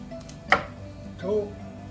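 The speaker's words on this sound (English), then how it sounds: "Now I'm gonna chop this spicy pepper." Spicy peppers are cut with a knife on a board, giving one sharp, close chop followed by a softer scraping cut, with light background noise around them.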